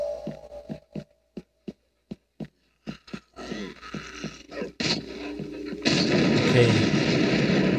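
Shotgun blasts from the zombie game Into The Dead 2, about a dozen sharp booming shots spaced irregularly, then a steady loud rumble of action noise.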